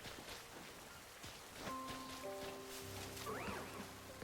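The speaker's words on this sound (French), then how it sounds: "Non, il pleut encore." Rain falls in the Pokémon Legends Z-A video game as a steady, soft hiss throughout, with sustained chime-like game tones and a rising swoop layered over it partway through.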